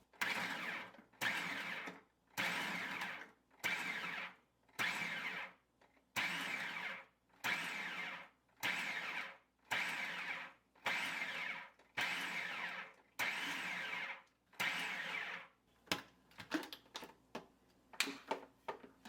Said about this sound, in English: I'll use the pulse button again.